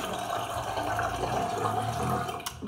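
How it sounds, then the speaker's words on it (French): Lukewarm tap water running while a face is rinsed at a sink, a steady close splashing flow that stops abruptly near the end. "je vais rincer mon visage à eau tiède, un peu"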